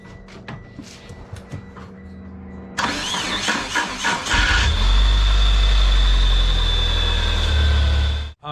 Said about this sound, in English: this is going to be the first time trying to start it